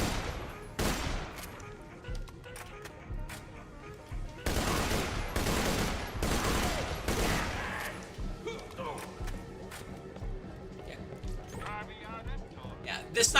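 A sniper rifle in a Roblox shooter fires five-shot bursts, sharp cracks arriving in clustered volleys with gaps between, loud and close, while a player talks quietly underneath.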